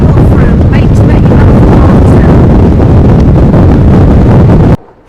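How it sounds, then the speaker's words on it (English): Strong wind buffets the microphone in a loud, continuous roar on a hilltop above Windermere in the Lake District, cutting off abruptly at the end. "Oh, it's a bit windy up here."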